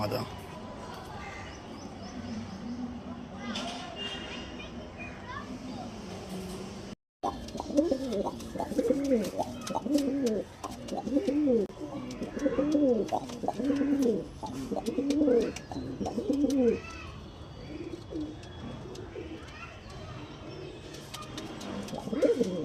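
Lambadi pigeons in a loft give repeated deep, throbbing coos in bursts close by, with someone talking intermittently, a sharp break early on and light rustling throughout.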